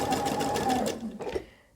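Sewing machine with differential feed stitching a short burst, close steady whir that slows and stops after about a second and a half.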